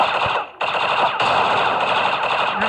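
A pistol fires in rapid, loud bursts in a cops shooter video game, with one brief gap before the shots resume in a dense, close string.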